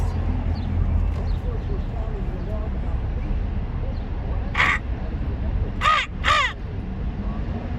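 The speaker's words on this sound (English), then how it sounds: "Who's making a crow noise?" Several crow caws ring out clearly around the midpoint and again in a quick double burst near the end, standing over a steady indoor hum with people talking in the background.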